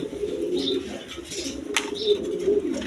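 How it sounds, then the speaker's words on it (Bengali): A pair of Rajgolla pigeons coos in a low, steady rolling murmur, close by, with a few faint higher chirps over the top and no talking. "এখানে এক পেয়ার রাজগোল্লা কবুতর আছে"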